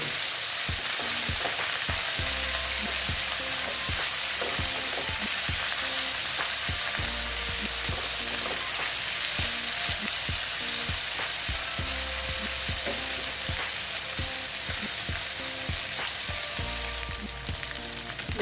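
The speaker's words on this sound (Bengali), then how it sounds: "দেখো বন্ধুরা মোটামুটি আমার ভাজা হয়ে গেছে আলুটা ধরো সিক্সটি পার্সেন্ট ভাজা হয়েছে" Thin-sliced potatoes fry in a pan with a steady, loud sizzle, punctuated by regular scraping and stirring clicks throughout, no voices.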